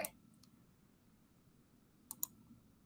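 A computer mouse clicks quietly a few times, with a sharp click near the start and a quick double click toward the end, each isolated against a low, steady room hiss with no talking.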